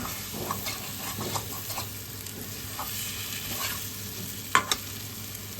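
Fried potatoes stirred into a thick, cooked-down spice paste for an Odia aloo dum, giving a steady low sizzle with scattered spatula scrapes and a couple of sharp clinks near the end, no talking.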